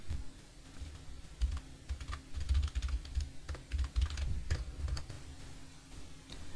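Soft typing on a computer keyboard while entering a subdomain name, with irregular light key clicks and taps over a low hum, close and quiet, no talk.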